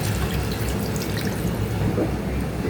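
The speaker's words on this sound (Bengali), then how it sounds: "এখন দিয়ে দেবো পানি।" Water poured into a pot of braised beef for haleem, a steady splashing, gurgling pour close by that runs without a break.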